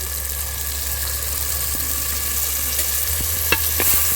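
Spice paste sizzling and frying in a pan for a rustic chicken curry while a spoon stirs it, a steady close hiss throughout with a few sharper scrapes near the end.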